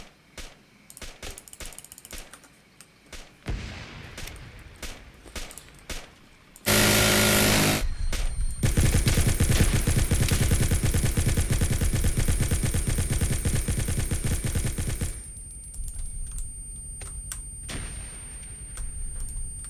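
Gunfire aimed at an oncoming vehicle on a road: scattered mechanical clicks and shots give way to a loud, continuous burst of rapid automatic fire lasting about eight seconds, then trailing off into sparser clatter.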